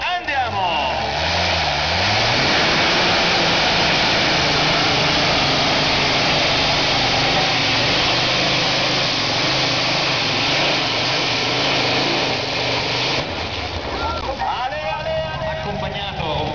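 The Blu Tornado pulling tractor roars loudly and continuously at an Italian tractor pulling event in Gonzaga, a heavy, dense engine blast with shifting pitch at the start and end and a commentator's voice mixed in.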